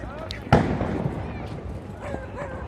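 A sharp firecracker bang bursts out early during fireworks and sky-lantern celebrations, followed by a noisy wash of crowd commotion and distant crackling in the background.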